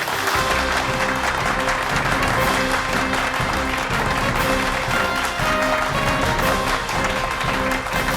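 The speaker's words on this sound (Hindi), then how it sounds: "तो जोरदार तालियों के साथ स्वागत कीजिए जादूगर तुषार राजेश्वर जी का।" Stage audience gives a magician a loud, sustained round of applause, dense continuous clapping filling the whole stretch at close range.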